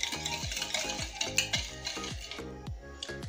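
Yogurt, sugar, vanilla and oil whisked together in a bowl, giving a quick, regular rhythm of scraping strokes, about three per second, close and fairly loud with no talking.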